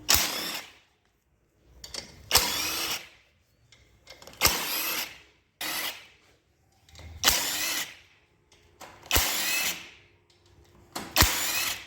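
Power tool tightening fasteners during assembly of a Mercedes C200D diesel engine, heard as six loud bursts of around a second each, spaced roughly two seconds apart, with quiet gaps between them.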